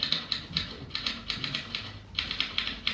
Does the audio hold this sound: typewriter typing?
yes